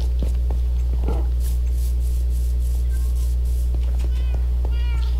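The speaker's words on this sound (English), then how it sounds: "So many kitty cats." Several cats in a Minecraft game meow repeatedly over a loud constant low hum, with short clicks and soft footsteps between the calls and no talking.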